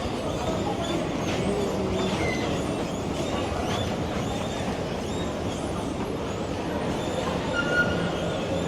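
Electric SGR train at a station in Tanzania, a steady broad rumble with faint wheel and rail squeals and brief tonal whines, heard alone with no talk.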